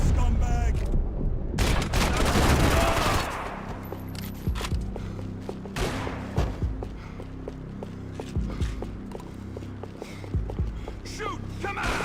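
Gunfire from the video game Max Payne 3: a loud, dense burst of shots in the first seconds, then scattered sharp reports over a low droning music bed, with voices speaking at times.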